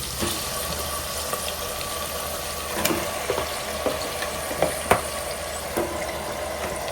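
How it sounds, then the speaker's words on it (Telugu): Mutton pieces fry in hot oil for a gravy, giving a steady, loud sizzling hiss throughout with faint scraping and stirring clicks scattered on top, no voices. "ఇప్పుడు ఇందులో మనం ముందుగా కలిపి పెట్టుకున్న మటన్ ముక్కల్ని వేద్దాం"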